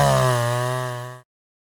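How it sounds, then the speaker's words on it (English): A chainsaw cuts oak hardwood firewood close by in a single loud, steady buzzing pass that winds down and stops abruptly after about a second. "we do have to sharpen this chainsaw very frequently"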